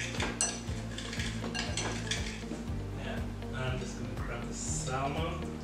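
Spoons toss broccoli pieces together in a bowl, giving repeated light clinks and scrapes of metal on dish, close but partly masked by a steady background of music.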